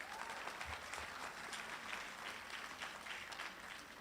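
Steady applause from a graduation ceremony audience at a community college, a continuous wash of many hands clapping, heard at a distance and fairly faint.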